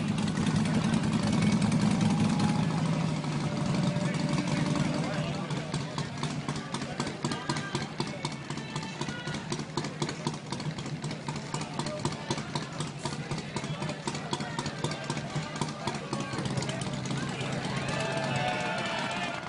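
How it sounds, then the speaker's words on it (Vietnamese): A rugged custom motorbike engine idles and runs steadily at a constant level, mixed under a voice talking throughout. "Chiếc xe này sắp sửa trình diễn một màn khạc lửa rất là táo bạo các bạn nhé."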